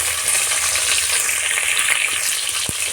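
Nigella seeds and chopped onion fry in hot oil in a wok, giving a steady bright sizzle throughout with one soft knock near the end and no talking.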